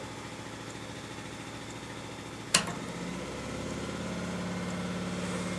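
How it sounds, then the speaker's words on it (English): A Honda EX800 generator drones steadily in the background at low, even volume, with a single brief knock partway through and no talking. "Hopefully you can hear the generator in the background if I be quiet."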